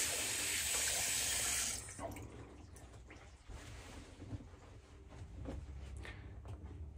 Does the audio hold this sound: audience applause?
no